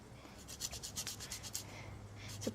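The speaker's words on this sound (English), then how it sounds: "So plenty of Parmesan. So a lovely little fine grater" A fine grater scrapes over Parmesan cheese in short, quick strokes, producing soft, dry rubbing bursts close up, with a faint low hum underneath and no talking.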